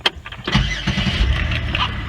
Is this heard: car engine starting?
yes